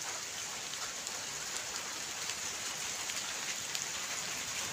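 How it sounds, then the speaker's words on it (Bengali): Light drizzle falls under heavy cloud, a soft, even hiss of fine raindrops that stays steady and close throughout. "বৃষ্টি পড়ছে গুঁড়ি গুঁড়ি।"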